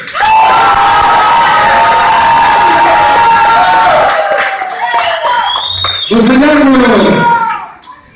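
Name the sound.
audience applause and cheering at a costume show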